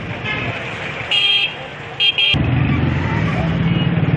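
Car horns honk in a traffic jam near Fuhara Chowk in Rawalpindi: two short blasts stand out over steady, loud traffic rumble, with people talking nearby.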